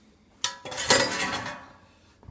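Thin pizza sliding out of a metal pan onto a butcher block, a sudden scraping clatter with metallic clinks that rises sharply, rings briefly, then fades over about a second.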